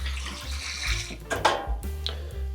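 Filtered water pours into a bowl of baking soda and apple cider vinegar in a kitchen, a close splashing flow in short uneven bursts.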